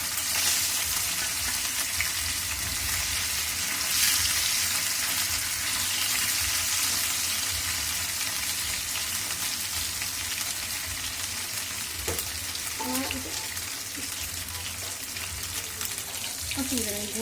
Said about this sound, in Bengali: এখন আমি সসেসটা ভেজে নেব। কড়াইটা গরম হয়ে গেছে,